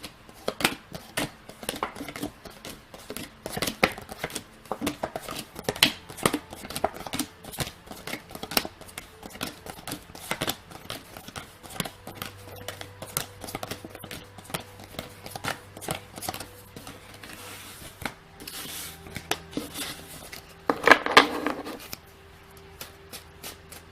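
Dense, rapid riffling and snapping of tarot cards being shuffled close by, in repeated bursts, with quieter handling and a low hum toward the end.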